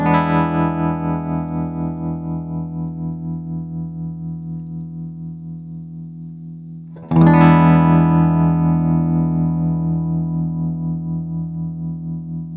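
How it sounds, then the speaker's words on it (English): Electric guitar through a Nembrini Double Reverb amp with vibrato effect, a sustained pulsing chord that fades, then a second strummed chord rings out louder and wavers steadily as it decays. "So for this vibrato here, I can change the intensity of it here."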